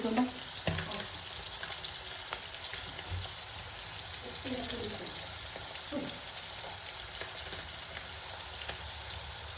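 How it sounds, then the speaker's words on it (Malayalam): Sliced onions softening with a pinch of salt in a pan for a fish biryani make a low, continuous sizzle with occasional spoon clinks and stirring scrapes throughout. "ഉള്ളി ഇട്ട് കൊടുത്തിട്ടുണ്ട് ഇത് നന്നായിട്ട് വാടട്ടെ"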